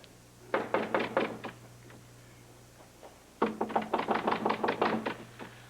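Knocking on a wooden door, two bursts of rapid raps, the first of about six knocks and a second longer run of around ten, close and clear against a quiet indoor hum.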